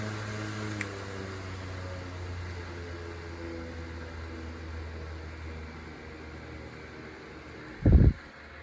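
A Mainstays 9-inch high velocity fan runs on medium speed with a steady low whir and faint rattle, continuous and fairly close, ending with a short bump near the end.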